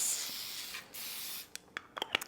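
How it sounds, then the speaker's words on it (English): Olive oil sprayed onto baked tater tots fresh from the oven: one long hissing burst, then a few short, sharp spritzes close to the microphone. "spray a little bit more olive oil on it"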